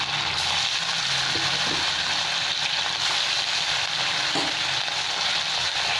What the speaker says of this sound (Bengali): তেল খুব গরম হয়ে গেছে, সরষের তেলে ভাজছি মাছটা